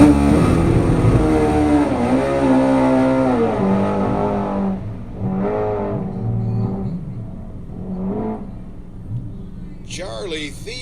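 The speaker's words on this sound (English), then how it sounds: "it's an old school funny bike, carbureted draw-through turbo," An old-school carbureted draw-through turbo funny bike with nitrous runs at a drag racing nationals, with a loud engine roaring and sweeping up and down in pitch under a commentator's voice, then fading toward quieter passes.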